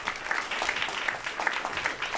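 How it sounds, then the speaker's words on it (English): A room full of people at a talk on farmland protection claps steadily, a soft, even patter of applause heard from a little distance. "Round of applause, everyone."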